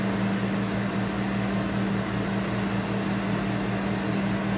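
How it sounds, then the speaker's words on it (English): An over-the-range microwave vent fan runs above a gas stove burner, giving a steady, moderately loud mechanical hum with a constant low drone and airy whoosh, unchanging throughout. "this burner is more directly underneath the microwave, so it should do a better job at extracting"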